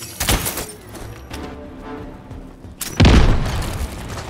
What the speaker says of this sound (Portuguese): É matar? Granada lançada!